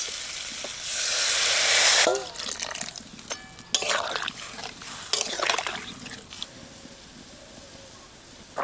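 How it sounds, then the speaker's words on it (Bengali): Water poured into a pan of spiced fish curry with small fish, a steady rushing splash for about two seconds, then sizzling and clattering as it settles, with faint voices nearby. "মশলা দিয়ে ভালো করে কষিয়ে নিলাম এবার দিয়ে দেবো জল"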